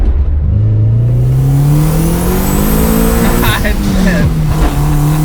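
A $1500 DSM rising hard under turbo boost in third gear, engine note climbing steadily and loud from inside the cabin before easing off near the end, with people talking over it.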